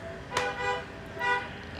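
A car horn gives two short, fairly faint honks about a second apart, heard at a distance over a quiet background hum.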